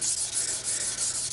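Sandpaper rubbing across aluminum during polishing, a close, continuous hissing scrape with slight back-and-forth swells and no pauses.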